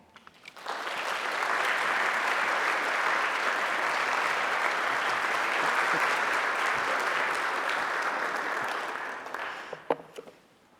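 Audience applause for speaker Daniel Bowman at a Calvin University talk rises quickly into a full, steady clapping that lasts about nine seconds before fading, ending with a few scattered claps.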